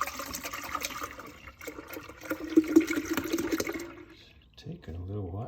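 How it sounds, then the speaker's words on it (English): Milk poured from a container into a jar for making kefir, a steady liquid gurgle and trickle that fades out near the end, followed by a brief voice. "Then I'll just pour this milk"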